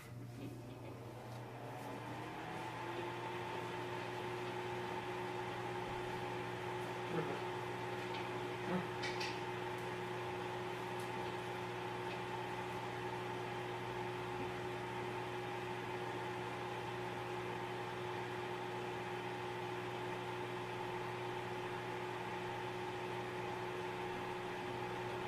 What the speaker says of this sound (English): so we got it in the microwave there